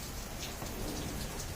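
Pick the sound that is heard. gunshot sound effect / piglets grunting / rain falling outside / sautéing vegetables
rain falling outside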